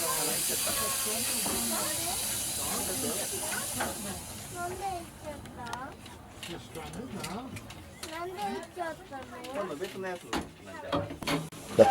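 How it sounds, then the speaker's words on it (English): A small green steam locomotive on the Gloucestershire Warwickshire Railway hisses loudly as it passes its coaches, the steam fading after a few seconds while a voice narrates over it. "The fireman changed the points and the little green engine puffs cheerfully past its train"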